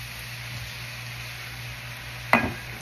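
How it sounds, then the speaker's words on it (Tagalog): Dried bulinaw fish sautéing with vinegar, a steady soft sizzle running throughout, broken once near the end by a short sharp utensil knock against the pan. "ito ang ginisa na buwad na bulinaw"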